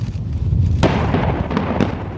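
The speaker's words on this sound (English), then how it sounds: "They had three tunnels that were still remaining at the site, and they blew them up." Tunnels at North Korea's nuclear test site blasted in a hillside, heard as loud booming detonations: a sharp blast followed by rumbling and further cracking bursts.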